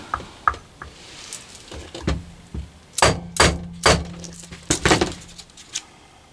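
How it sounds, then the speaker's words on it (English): Soft hammer tapping on the rotating assembly of a diesel heater motor during a 5kW to 8kW upgrade: a series of sharp, close knocks and thuds in irregular clusters, some with a brief metallic ring, with no talk. "I'm just going to give it a tap with the soft hammer"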